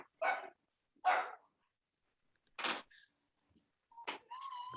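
A dog barks indoors in several separate, fairly close single barks with silent gaps between them, followed by a faint higher tone at the end.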